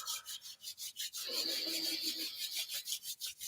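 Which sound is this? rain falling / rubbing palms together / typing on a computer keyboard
rubbing palms together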